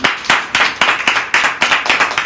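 A preacher claps his hands in a steady, loud rhythm of about a dozen sharp claps during a church sermon, close and alone without talk over it.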